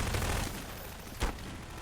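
SMG gunfire in a 2v2 first-person shooter tournament match: a dense, noisy wash of shooting with one sharper, louder crack near the end.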